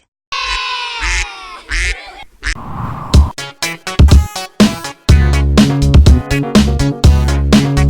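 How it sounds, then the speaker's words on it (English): A duck quacks several times in short, nasal bursts at the start of an animal sound toy for children, then a bouncy, clicking tune takes over. "Duck."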